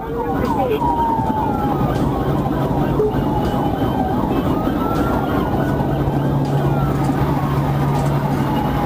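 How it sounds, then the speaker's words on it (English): A highway patrol car's siren wails with rising and falling sweeps while chasing a stolen white Kia Seltos on Interstate 75, loud and continuous over steady engine and road roar. "activating lights and siren"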